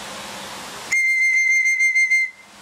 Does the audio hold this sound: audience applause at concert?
no